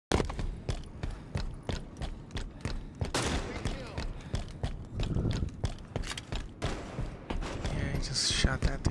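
Rapid bursts of Halo 5 gunfire in a Team Slayer match, dense repeated shots and thuds running nearly nonstop at close, loud level, with players talking over the action.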